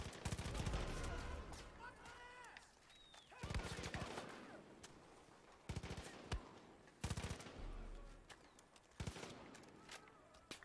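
Bursts of gunfire in the video game Far Cry 5, several separate volleys of rapid shots at fairly close range, broken by quieter stretches with faint bird calls and a little talking.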